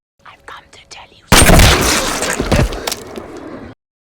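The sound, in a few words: gunshot to a zombie's head in a film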